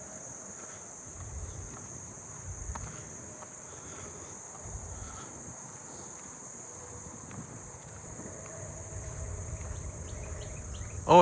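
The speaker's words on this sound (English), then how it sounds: "I hear another swamp cicada in the distance." A swamp cicada calls from far off as a steady, thin, high buzzing drone that runs through the whole stretch, with soft low wind rumble underneath and no voices.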